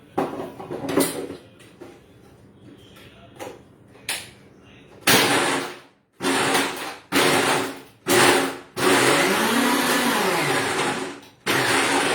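An electric blender churns vanilla ice cream in loud, close bursts: short pulses first, then longer whirring runs that start and stop several times, with the motor pitch shifting as the contents spin.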